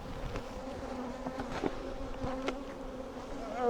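Honey bees buzz close by in a dense, continuous drone, with individual insects darting past at slightly varying pitches.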